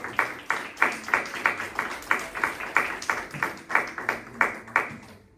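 A church congregation claps in a steady, rhythmic beat, about two claps per second, loud and sustained throughout.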